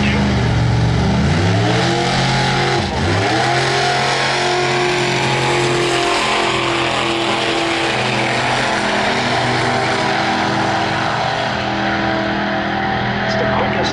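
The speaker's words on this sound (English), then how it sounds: "Arn Toman out of West Chicago, 96 Chevy Hearse. Got a turbo in it." A turbocharged 1996 Chevrolet hearse engine roars at a heads-up drag race, loud and sustained with a rising rev pitch, under an announcer's voice.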